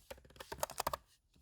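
Quick bursts of computer keyboard typing, a cluster of close clicky keystrokes followed by a brief pause and a final tap.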